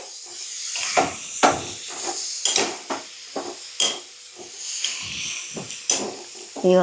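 Chopped tomatoes sizzle and hiss in a hot pan while being stirred for a prawn curry, with repeated bursts of frying noise and scraping rising and falling in an uneven rhythm.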